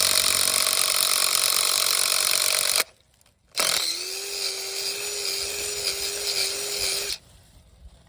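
A drill bores a tap hole into a maple tree trunk, running loud and steady with a whining motor tone, pausing briefly near the middle, then running for several more seconds before stopping.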